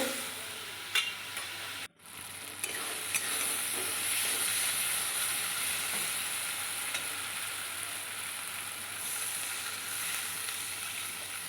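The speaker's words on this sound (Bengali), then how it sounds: "সামান্য জল দিয়ে কষিয়ে নেব" Spices for a pomfret fish curry sautéing in a pan with a little water, a steady close hiss and sizzle after a brief clatter near the start, continuing evenly without talk.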